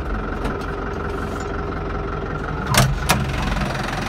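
Short 75-56 model tractor fitted with extra front weights, working on sloped farmland, its engine running with a steady low rumble and a couple of brief louder surges near the end.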